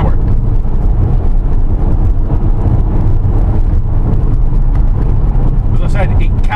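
A Volvo V40 T5 Cross Country accelerating hard in sequential mode, a loud, continuous engine and road roar with wind noise, heard from inside the car while a person talks over it.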